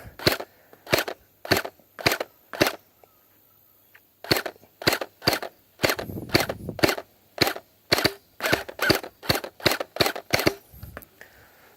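A toy pistol fires single shots, about twenty sharp cracking pops spaced roughly half a second apart in bursts, with a brief pause after the first few, loud and close.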